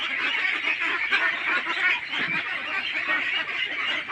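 Ducks on a duck farm, a dense, steady chorus of many quacking and honking birds close by, loud and continuous without pause.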